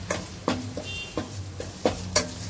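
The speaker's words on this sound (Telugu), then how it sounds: "ఆయిల్ హీట్ అయిన తర్వాత పచ్చిమిర్చి కట్ చేసుకొని వేసుకోవాలి" Chopped green chillies fry in hot oil in a pan for gobi Manchuria, with a soft constant sizzle broken by several sharp clinks and scrapes of a stirring spoon against the pan, close by.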